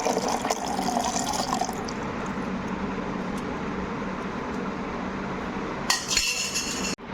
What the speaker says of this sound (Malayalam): ഇതിലേക്ക് ഞാൻ തിളപ്പിച്ച് വെച്ചിരിക്കുന്ന 1 കപ്പ് പാല് ഒഴിക്കുന്നതാണ്.